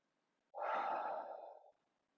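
During a yoga back bend, one deep, breathy exhale rushes out for about a second, close and soft in an otherwise quiet room.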